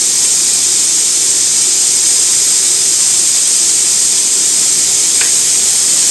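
Bacon lardons sizzle in a hot pan, a loud, even hiss that stays constant throughout with only a brief faint tick near the end.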